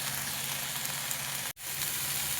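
Kashmiri chili powder and turmeric fry in a pan with a steady, close sizzle that briefly cuts out before resuming.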